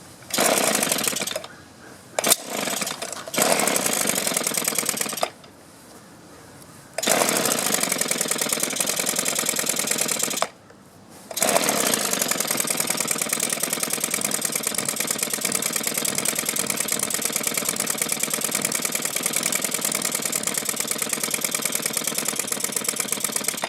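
A two-stroke trimmer engine runs loud and buzzy up close, sputtering and cutting out a few times early on before it catches and holds a steady, rattling idle.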